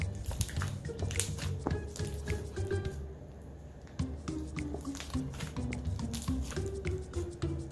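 Wet, squishy slime being squeezed and played with by hand, giving repeated close sticky squelches and dripping pops with a steady busy rhythm throughout.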